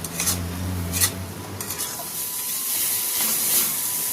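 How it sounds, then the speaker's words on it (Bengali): A spice paste of ginger, garlic and onion fries in a pan while being stirred for a fish curry. A hissing sizzle runs throughout, with scraping stir strokes early on that give way to a steadier spitting hiss, and no one speaks. "এই সব মশলাগুলো ভালো করে ভেজে নেব"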